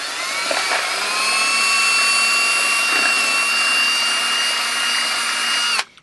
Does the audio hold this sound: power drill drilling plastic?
yes